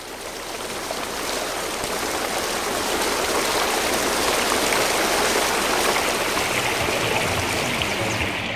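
A heavy rush of water drains from the Red Sea set at Universal Studios Hollywood, a loud, continuous roar holding steady throughout.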